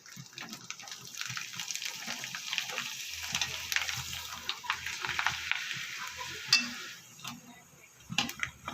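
Rice papads fry in hot oil with an uneven, bubbling sizzle close by, broken by faint clinks and scraping.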